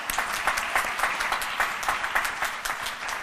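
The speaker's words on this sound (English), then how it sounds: "you could give them a round of applause" An audience at a gala applauds, a steady dense patter of many hands clapping at close range throughout, with no talk over it.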